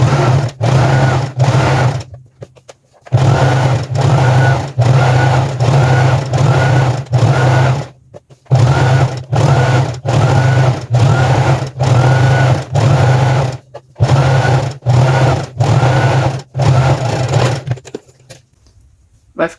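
A sewing machine stitches a seam in fabric for elastic-waist trousers, running in loud, close bursts of steady whirring separated by short pauses.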